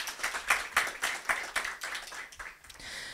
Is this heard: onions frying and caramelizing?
no